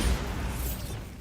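Bombarda explosion spell from a Harry Potter video game: a short, dense burst with a low rumbling boom that stays loud and noisy through its brief length, heard alone.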